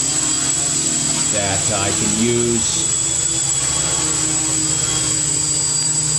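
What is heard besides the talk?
FPV quadcopter hovering on PID tuning stand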